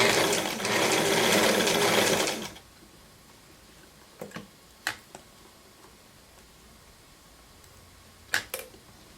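A sewing machine zigzag-stitches fabric and elastic in a fast, steady whirring run of about two seconds, then stops, leaving a few faint scattered clicks.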